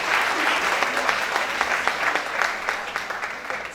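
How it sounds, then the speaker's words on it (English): Sustained audience applause at a fundraising gala, steady dense clapping from a crowd filling the room at moderate loudness with no speech over it. "Let's give them another round of applause."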